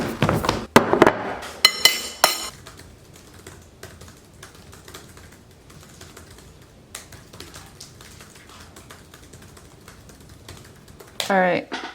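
Computer keyboard typing while writing, with quick bursts of clustered keystrokes at the start and again at the end, and sparse faint taps and soft background noise in between.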